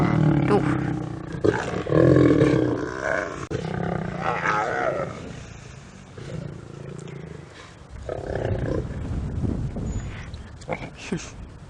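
Lions roar and growl in deep, rumbling bursts at night over a buffalo kill, loud and close, rising and falling in several heavy waves with throaty snarls between.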